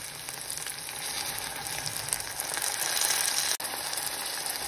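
Tomato sautéed in a pan for simple lugaw, a dense continuous sizzle with rapid scraping and clicking from stirring, one abrupt cut near the end.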